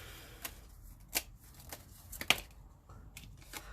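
Playing cards are shuffled quietly, with scattered soft riffling snaps and light flicks over a low background hum, fairly close but faint.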